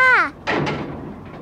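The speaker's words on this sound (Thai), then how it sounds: "รีบๆปิดประตูสักทีเซ" A door closes in a children's story, with a short bump and a rattling thud that fade away quickly, just after a brief bleat-like voice.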